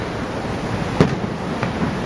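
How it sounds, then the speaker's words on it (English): A fireworks show over Niagara Falls is heard from beneath the falls, with muffled booms and crackles under a loud, constant roar of rushing water. "I'm standing underneath Niagara Falls watching a fireworks show."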